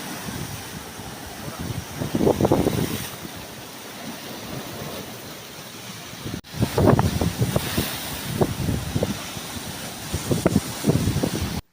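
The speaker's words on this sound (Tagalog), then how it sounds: "Malaki yung alon no?" Large ocean waves at Canhugas Nature Park in Hernani, Eastern Samar, crash in repeated surges under heavy wind buffeting on the microphone.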